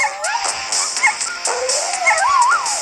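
High, wavering whines and yips, like a small dog whimpering, come from a squeaky toy in quick bursts, fairly loud and close.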